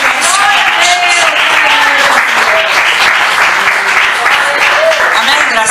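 Loud, continuous clapping from a church congregation during a worship service, filling the whole stretch, with voices and singing-like tones mixed in underneath.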